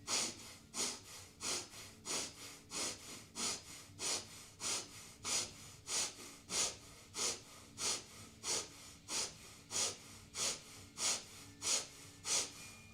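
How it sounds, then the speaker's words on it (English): Slow, deep, steady breathing during a held hatha yoga pose, each inhale and exhale rising and falling in a regular rhythm, close and moderately quiet with no talking. "we take 15 to 20 breaths"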